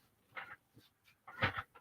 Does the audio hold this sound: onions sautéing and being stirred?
no